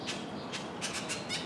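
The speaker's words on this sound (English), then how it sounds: "And there's a bunch of birds over here too." Birds squawk outdoors on a summer morning in Chiang Mai, Thailand, with several short, harsh calls repeating over a hissy background at moderate distance.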